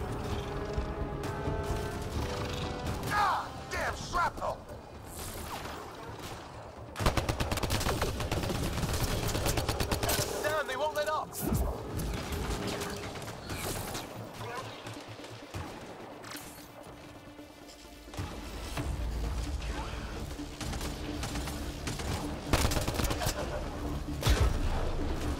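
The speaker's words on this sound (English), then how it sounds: "Just keep firing." Gunfire during a combat firefight in Mass Effect Andromeda, bursts of shots and sharp cracks mixed with game effects, rising and falling over a long stretch, with stretches of quieter action between volleys.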